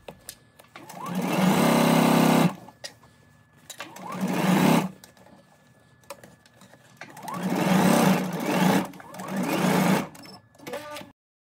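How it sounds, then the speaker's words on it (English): Sewing machine stitching garment pocket pieces together, four close whirring bursts of rapid stitching a couple of seconds each, separated by quiet pauses and light handling. "When stitching the pocket pieces together, you want to make sure that you're also catching in the clipped corners at the beginning and the end."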